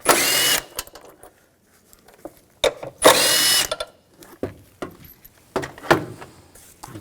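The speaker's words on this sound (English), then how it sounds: "Take these two bolts out, use a 10mm socket." On a BMW X5, two bolts come out with a 10mm socket, likely on a power tool: two loud, sustained whirring bursts, each followed by lighter clicks and rattles of metal parts being handled.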